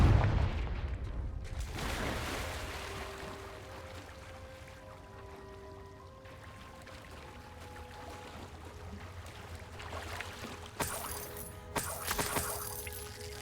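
Confringo fire spell cast in the video game Hogwarts Legacy, opening with a heavy booming blast, then a low rumbling tail with faint tonal ambience and a fresh crackling burst near the end.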